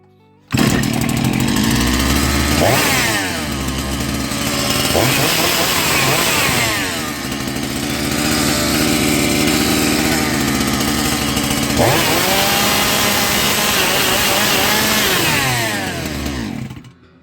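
A Motor Sich MS270 chainsaw, freshly repaired with a new spark plug and carburetor work, starts and runs loud and close, with a steady engine roar and several rising throttle revs before cutting off.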